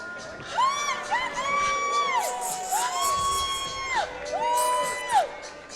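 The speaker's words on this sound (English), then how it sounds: "Crowd going crazy." A fight crowd cheers wildly, a loud sustained roar of whoops, shouts and high rising yells that swell in repeated waves across the arena, with one sharp peak near the end.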